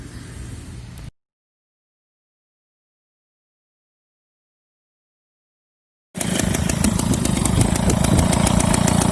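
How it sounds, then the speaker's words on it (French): A Motobécane moped engine fitted with a Doppler exhaust pipe runs loud and close, a steady buzzing two-stroke drone that starts abruptly after a long stretch of silence. "c'est bien le pot Doppler qui faisait du bruit et qui vibrait de partout"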